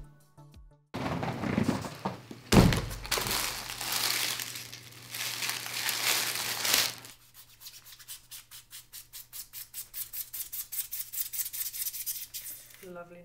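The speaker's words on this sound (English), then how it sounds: "Cutting styrofoam is probably the worst experience of my life." Styrofoam being cut for an art project gives a harsh, squeaky rubbing and crunching that runs loud for several seconds, then turns into a quicker, fainter rhythmic scraping with repeated strokes.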